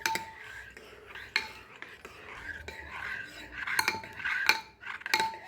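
A spoon mixes Ugadi pachadi with fruit pieces in a bowl, giving quiet, close clinks and scrapes against the bowl at an irregular pace, with several sharper taps near the end.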